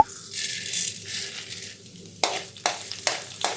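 Urad dal tipped into a pan for dry roasting while making a tomato chutney: a loose rattling, crackling sizzle fills the first two seconds, followed by several sharper stirring scrapes and clatters, with no one speaking.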